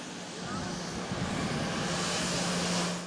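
A private jet lands at Atatürk Airport, its engines producing a loud, steady broadband roar that swells slightly toward the end.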